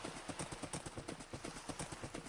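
Steady, even clip-clopping of horse hooves in Minecraft, a brisk regular rhythm of close, fairly loud hoof beats throughout with no talking.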